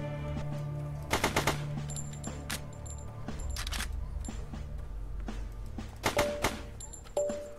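Shotgun blasts in a video game, several sharp, loud shots spaced irregularly with a quick cluster early on and mechanical clicks and clunks between them.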